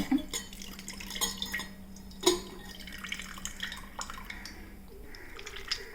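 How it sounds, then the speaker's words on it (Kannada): Soaked tamarind is squeezed by hand in water to extract juice for a traditional summer drink, giving faint, close wet squishing with small drips and splashes over a quiet background. "ನೆನೆಸಿದಂಥ ಹುಣಸೆ ಹುಳಿಯನ್ನು ಈ ಥರ ಚೆನ್ನಾಗಿ ಕಿವುಚಿಕೊಂಡು ಇದರ ರಸ ತೆಗಿಬೇಕು"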